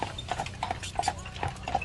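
Horse hooves clip-clop on a road on Mackinac Island, a steady close rhythm of paired hard knocks at a walking pace.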